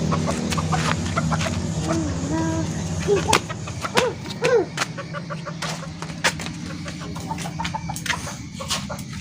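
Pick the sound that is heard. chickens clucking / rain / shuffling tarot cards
chickens clucking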